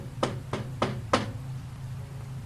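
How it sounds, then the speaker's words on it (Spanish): Four sharp knocks on a door, evenly spaced and fairly close, followed by quiet room tone. "Alguien tocó a la puerta y nos sacó de repente de las historias."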